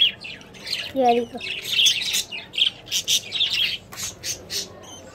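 Small birds chirp in quick, bright bursts close by, dense and overlapping, while a person briefly speaks.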